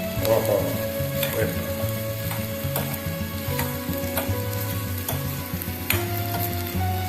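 Eggplant pieces sautéing in hot oil for brinjal rasam, a continuous loud sizzle with repeated scraping and clicking of a spatula as the pieces are stirred and turned.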